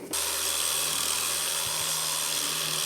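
A power sander whirs steadily at close range on wood, a constant buzzing drone with a couple of slight dips and no voices.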